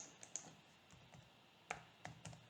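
A few quick keystrokes on a computer keyboard enter a two-digit number, followed by a couple of sharper key presses. The clicks are close and fairly quiet, with short gaps between them and no talk.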